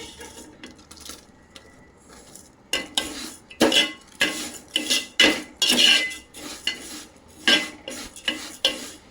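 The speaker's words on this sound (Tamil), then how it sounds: "நீங்கள் எல்லாத்தையும் ஒன்றா போட்டு ஃப்ரை பண்ணிக்கலாம்." Vermicelli (semiya) fries in a pan while a utensil stirs and scrapes it, giving a run of repeated metallic clinks and scrapes over a faint sizzle. No voice is heard.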